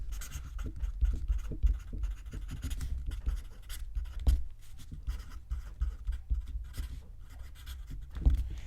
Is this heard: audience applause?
no